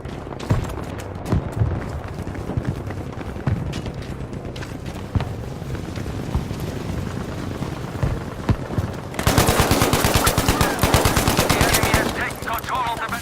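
Scoped rifle with a bipod firing in a World War One era shooter game, scattered sharp cracks and booms early on, then a dense rapid burst of repeated shots in the last few seconds, loud and close.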